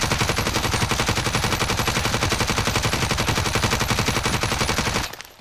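A QBZ rifle in a shooter video game fires in one long, steady full-auto burst of rapid, evenly spaced loud shots for about five seconds, then stops abruptly.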